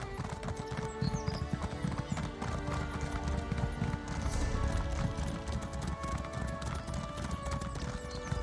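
Horse hooves clip-clop at a steady riding pace in ESO: High Isle, a continuous rhythmic patter with an occasional whinny over ambient game music.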